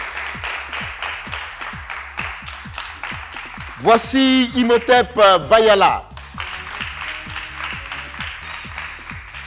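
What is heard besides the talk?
audience applause in a café show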